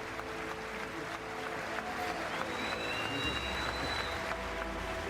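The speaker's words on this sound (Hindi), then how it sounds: "अमेरिकी संसद में पूरे 79 बार तालियां बजी" Applause in the US Congress during Prime Minister Modi's speech, a continuous crowd clapping heard fairly faintly as a steady wash, with a thin tone gliding over it midway.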